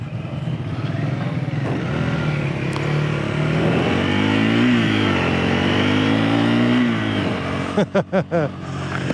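A Triumph Scrambler 400X motorcycle under way, its engine note droning loudly and rising and falling in pitch with the throttle, close to the rider, with wind noise and a few sharp bumps near the end.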